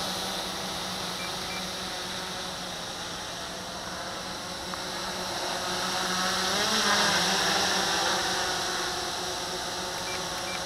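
An ATG X700 X6 multicopter with a folding frame and carbon props flying nearby, a steady high-pitched whine of six motors with a dense buzzing hum that swells briefly as it maneuvers.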